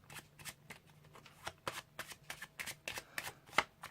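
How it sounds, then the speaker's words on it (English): Rapid snapping bursts of playing cards being shuffled, a quick irregular riffle of clicks close by, no talking. "So I'll give the pack a shuffling up."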